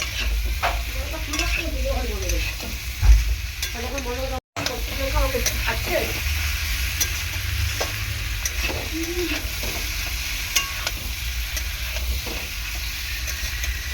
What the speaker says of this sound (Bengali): ভেজে রাখা পটল আর আলুটা দিয়ে এরকম ভালো করে কষিয়ে নেব।